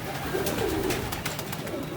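Soft, low coos from pigeons near their cage repeat a few times against a steady outdoor background hiss, fairly close and moderately loud, with no speech.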